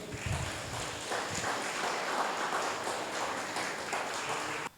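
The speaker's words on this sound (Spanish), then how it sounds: "dale un fuerte aplauso al Señor" A church congregation at an online worship celebration claps loudly for about five seconds. The applause is dense and steady, then cuts off abruptly.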